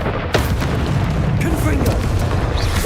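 Loud booming spell blasts from the Bombarda spell in Hogwarts Legacy, a PC game, with a sharp burst near the start and dense rumbling explosions continuing throughout alongside voice-like game sounds.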